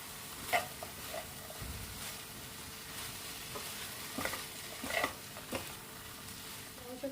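Leftover roti noodles, already coated with oil and salt, are stirred and tossed in a pan. Repeated close scraping and tapping strokes sound over a faint, steady sizzle.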